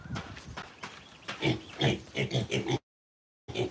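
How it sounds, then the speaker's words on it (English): Pigs on a farm oink and grunt repeatedly in quick irregular bursts, close and moderately loud, before a brief silence and a final grunt. "Because this kind of pigs, guys, they are weak without water."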